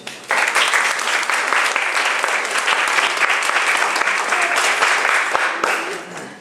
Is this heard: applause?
yes